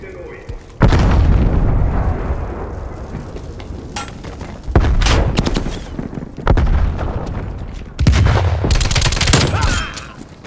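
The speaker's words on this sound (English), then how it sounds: "Grenade out!" Loud gunfire and a grenade blast in Call of Duty Cold War multiplayer: heavy booming bursts erupt near and close in several waves, with dense rattling shots between them and a voice talking over the din.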